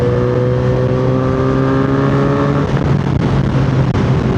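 A Kawasaki Z900RS motorcycle with a 61mm mid-pipe exhaust revs loud and close, its engine note holding steady, then shifting and rising in a rough, throaty burst partway through.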